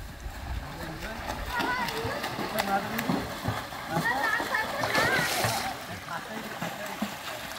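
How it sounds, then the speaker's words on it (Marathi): A child jumps into a farmhouse swimming pool, sending up a steady run of splashing and churning water with a voice and other chatter mixed in throughout. "आता वरून उडी मारतो आहे पार्थू."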